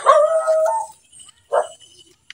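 Two dogs, one a household pet and one belonging to a neighbour, give a drawn-out howling bark and then a second short bark, close and loud with quiet between.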